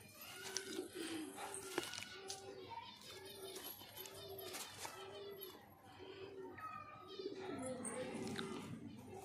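Pigeons cooing in a repeated low rhythmic pattern alongside other bird calls, with children's voices and background activity mixed in, fairly close and steady throughout.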